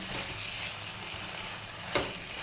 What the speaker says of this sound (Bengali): ওকে ভালো করে এখন তেল ছাড়া পর্যন্ত ভাজবো।